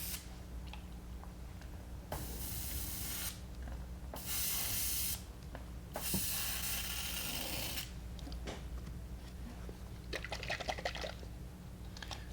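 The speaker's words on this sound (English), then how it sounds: "I'll give the airbrush a quick rinse." An airbrush being rinsed during fishing-lure painting hisses in several bursts of spray, each lasting a second or two, separated by quieter gaps with small clicks and handling noises, close and unaccompanied by talk.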